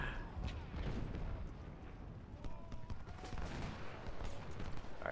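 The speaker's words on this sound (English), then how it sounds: "Let's see if I can't allow Stockton to get a few shots off here" Civil War video game battle at Philippi with musket volleys and scattered gunfire popping at a distance over a low rumbling background, mixed beneath a voice talking.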